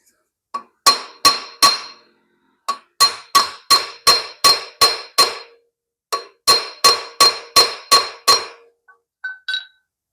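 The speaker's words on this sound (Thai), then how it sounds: "ดี๋ยวลองค้อนเคาะดู" A hammer taps hard metal on a Ryuka car with a no-start fault, in quick rhythmic runs of sharp, ringing clinks, with short pauses between the bursts, close and loud.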